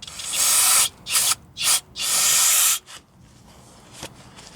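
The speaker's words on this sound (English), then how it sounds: "with the big hunks off, we can hit it with brake parts cleaner" Brake parts cleaner sprayed onto a trailer brake drum hub in several hissing bursts, short squirts followed by one long spray, close and loud, then fading into quiet shop background.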